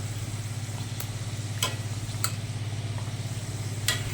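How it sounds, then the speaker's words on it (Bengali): A puri fries and puffs up in hot oil, giving a low, steady bubbling sizzle close by, with a few sharp clicks or taps at irregular moments and no voices. "আমার পুরীর এক পিঠ ভাজা হয়ে গেছে আমি অপর পিঠটা এবার উল্টে দেবো এবার ফুলে উঠছে তেলের মধ্যে"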